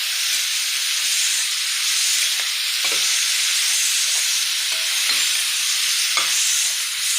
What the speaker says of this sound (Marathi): आता मी ती गवार आहे ना पूर्ण अशी खालून घेणार आहे